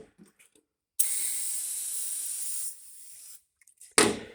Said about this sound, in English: 7 seconds of spraying brake cleaner.